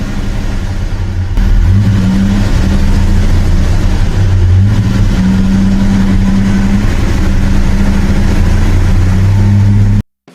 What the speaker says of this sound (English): big block V8s gave the Biscayne incredible torque and acceleration